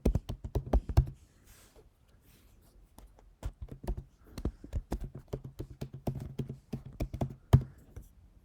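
Fingers type an email address on a computer keyboard in quick bursts of close, crisp key taps, with a short pause partway through.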